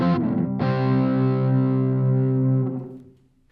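An electric guitar runs through a Maestro pedal with the tone turned down, giving a darkened sound: a single strummed chord rings loud and sustained for about three seconds, then decays and is cut off, with no talking.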